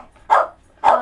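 A pet dog barks twice, close and loud, with the two sharp barks about half a second apart and no talking over them.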